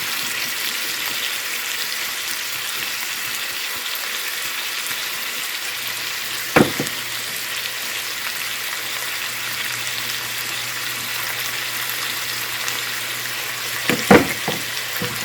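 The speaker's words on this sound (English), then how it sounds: "Stir this around, and we're going to let this simmer 10 or 15 minutes" A pot of supper with garlic, salt and pepper simmering on the stove, giving a steady soft bubbling hiss throughout, with two brief utensil knocks from stirring; close, even and wordless.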